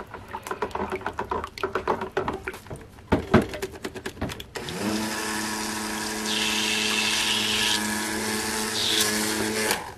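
Blender mixing goat milk soap batter for a cold-process vetiver soap: light tapping and scraping first, then a steady, loud, high-pitched motor whir that runs unbroken to the end.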